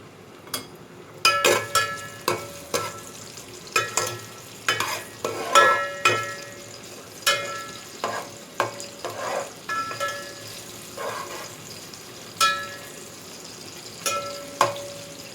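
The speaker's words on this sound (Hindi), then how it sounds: "इस अनियन को मैं गोल्डन ब्राउन करूँगी।" Sliced onions frying in ghee for matar pulao while a spoon stirs them, giving a soft continuous sizzle broken by repeated close scraping and clinking strokes against the pan at an uneven rhythm.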